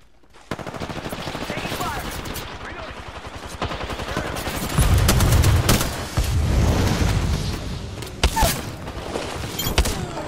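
Gunfire rattles through a video game shootout, with rapid automatic bursts and scattered single shots, a few heavier booms in the middle and near the end, and voices talking over the action.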